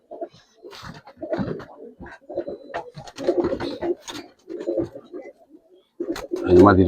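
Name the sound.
Giribaz pigeon released, cooing and flapping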